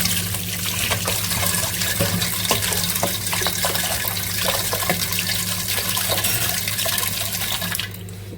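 Water runs and splashes steadily outdoors at home in a continuous rushing flow, loud and close, with a low background hum underneath, easing off at the very end.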